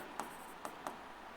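Chalk taps lightly on a classroom board in three short strokes, faint and close, with no voices over them.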